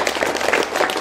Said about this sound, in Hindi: एक बार दोनों हाथ खोलकर जोरदार तालियां बजाएं